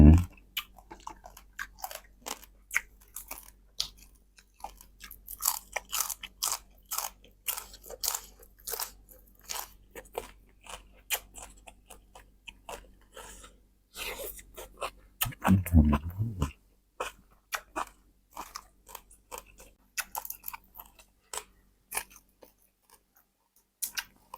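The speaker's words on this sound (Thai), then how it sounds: "กรอบปูก็กรอบ ไม่เค็ม" Crunchy fried crab pieces eaten with Thai papaya salad, the chewing close and steady as a string of sharp crisp bites that run throughout, with a louder crackling burst midway and no talk.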